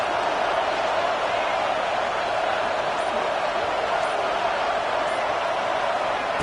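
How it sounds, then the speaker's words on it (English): Steady, dense crowd roar filling a football stadium as fans urge on the defense, a continuous broadband wash with no pauses, loud and sustained throughout. "The roar of the crowd trying to fuel this defense to keep them pinned in their own end."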